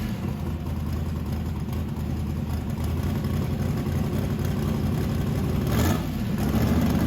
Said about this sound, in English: So Billy opens the lean out valve on the carburetor to lean out the air fuel mixture, and that idles the carburetor up a little bit higher